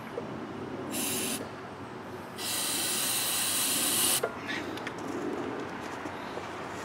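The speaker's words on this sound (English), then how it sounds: "give it a little bit of a head start with some starting fluid directly into the carburetor." Starting fluid sprayed directly into the carburetor of a 1990 Wheel Horse 520H tractor, heard as two close hissing bursts, a short one and then a longer one lasting about two seconds, over a low background.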